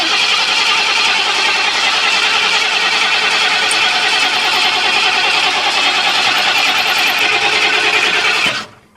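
A 1976 Ford F250 crew cab pickup, abandoned for twenty years, cranks and runs with a loud, steady mechanical roar held for several seconds before cutting off abruptly near the end.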